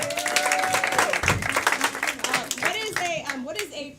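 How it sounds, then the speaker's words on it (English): A live audience claps for two players being called up on stage, hand clapping that begins loud and thins out as it goes, heard under lively talk from a host and raised voices. "Please clap for them"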